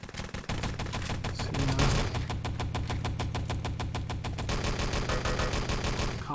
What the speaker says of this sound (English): Hear quite a lot of Thompson gunfire from that area.